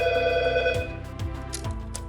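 A Tring phone, a Bluetooth call-mirroring device paired to a smartphone, rings with a loud, steady electronic ringtone that repeats in short pulses, with no talking.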